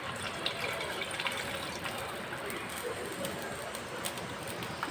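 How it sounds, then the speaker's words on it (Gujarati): Water is poured into a pan of paneer butter masala curry, a steady, fairly quiet pouring and trickling sound that carries on evenly throughout. "હવે આપણે થોડુંક નાખી દઈશું આમાં પાણી."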